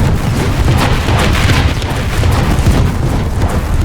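Artillery strike explosions in the video game War Thunder: a loud, dense barrage of overlapping blasts merging into a continuous deep rumble with crackling debris, sustained and close throughout, with no talking.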